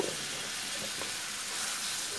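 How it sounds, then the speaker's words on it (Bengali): Chopped dried fish (shutki) sautéing in oil with salt in a pan, a steady, moderately loud sizzle and crackle running throughout with faint stirring. "যখন এই সুটকিটা কষানো হয়"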